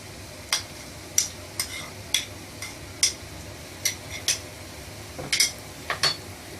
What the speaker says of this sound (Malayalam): എന്നിട്ട് നല്ലോണം ഇളക്കി കൊടുക്കുക.